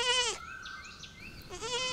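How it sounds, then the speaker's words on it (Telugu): A lamb bleats loudly twice, a wavering cry at the start and another near the end, with quieter background sounds and a steady tone between the calls. "ఈ గొర్రె పిల్లకి కేకలు ఎక్కువ అవుతున్నాయిరా"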